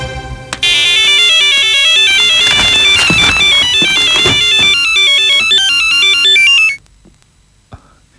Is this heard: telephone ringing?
yes